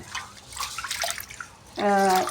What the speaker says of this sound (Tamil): நல்லா கழுவி இந்த தண்ணியை வேஸ்ட் பண்ணாதீங்க.